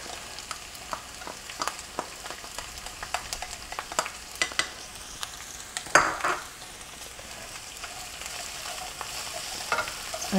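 Garlic sizzling in a pan for shakshuka, a quiet, steady frying hiss broken by scraping stirs and the occasional clink of the utensil, close by and without voices.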